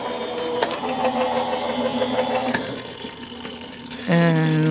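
A die-cutting machine hums and rumbles steadily as an envelope die is run through it, with a few clicks, then its motor note shifts to a louder, higher whine near the end; no talking.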